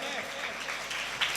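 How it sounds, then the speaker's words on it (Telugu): A church congregation at a Sunday service claps together in a dense, steady patter that fills the whole moment, with voices mixed in underneath. "సంతోషంగా చప్పట్లు కొట్టండి"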